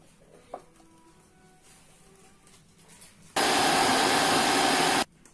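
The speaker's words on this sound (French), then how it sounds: "Nous allons mixer tout ça." Sardines, already cleaned and deboned, are blended in a kitchen blender: after a quiet stretch of faint clatter, a loud, dense motor roar starts suddenly and runs steadily for nearly two seconds before cutting out.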